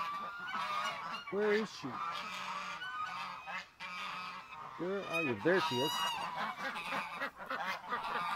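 Domestic geese honk repeatedly in loud, nasal bursts near a person who talks to them over steady background noise.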